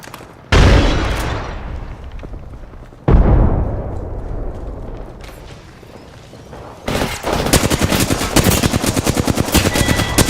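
Apex Legends gameplay with a frag grenade toss: two loud booming blasts a couple of seconds apart, each fading into a rumble, followed by sustained rapid machine-gun fire, loud and up close.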